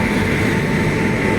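An Indian railway train passes with a steady, loud rumble and rolling wheel noise, continuous through the brief moment.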